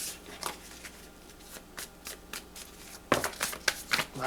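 Tarot cards shuffled by hand in a string of short papery riffles and flicks, soft and intermittent at first, then a louder, denser burst of shuffling near the end, with no voices.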